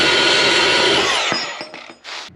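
Power saw cutting through a quarter-inch thick metal cross member piece, a loud sustained grinding whine close by that cuts off, followed by a few short bursts as the blade spins briefly again.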